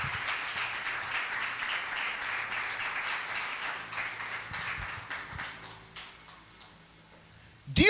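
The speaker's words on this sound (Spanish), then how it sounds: "Denle palmas fuertes a ese Dios maravilloso." A church congregation clapping their hands together in a steady, rhythmic beat. The claps are moderately loud and even at first, then thin out and fade toward the end, with faint voices in the background.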